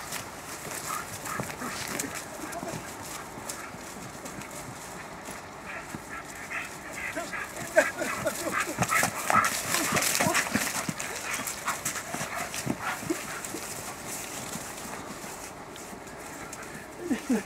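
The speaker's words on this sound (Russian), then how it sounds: "Вот так братья развлекаются, собачки" Dogs, including a guard dog, play at a Belarus–Poland border crossing, with scuffling and soft vocal sounds mixed with pigeon coos and outdoor noise, moderately distant and continuous, with faint voices in the background.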